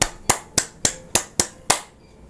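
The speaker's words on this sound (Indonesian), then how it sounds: "tepuk tangan" Seven sharp hand claps ring out at a steady, slightly uneven pace, each one crisp and close with a quick decay, followed by a short quiet tail.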